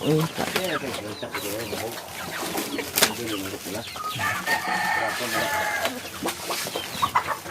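Chickens clucking close by with a rooster crowing, mixed with people talking throughout.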